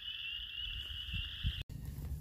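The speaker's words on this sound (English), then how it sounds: "How many different frogs can you hear?" Frogs call in a marsh at the Hawkeye Wildlife Area in Iowa, producing a steady, continuous high trill with a low, rumbling background chorus and no voices.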